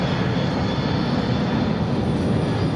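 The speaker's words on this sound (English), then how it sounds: "this is about as much noise as this airplane is ever going to make" Boeing C-17 military transport jet engines roaring with thrust reversers deployed just after touchdown at Miramar airshow 2023, a loud, continuous broadband rush of engine noise held steady throughout.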